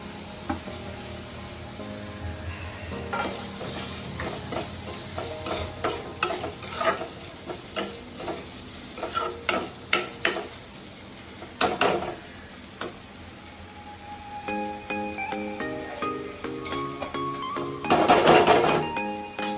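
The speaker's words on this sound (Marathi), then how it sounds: "छान परतवून घ्यायचं आणि त्यात टाकायचे टोमॅटो." Tomatoes sautéing in a pan for mixed sprouts sabzi, with soft sizzling and repeated clinks and scrapes of a spoon stirring against the pan, a louder clatter near the end, no talking.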